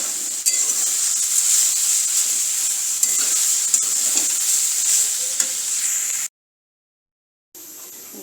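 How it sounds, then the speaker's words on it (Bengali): Drumstick (sajna) greens stir-fry in a pan with a steady bright sizzle and occasional spatula scrapes, close and loud, cutting off abruptly near the end before resuming briefly. "রস শুকনো হওয়া পর্যন্ত আমি ভেজে নেব"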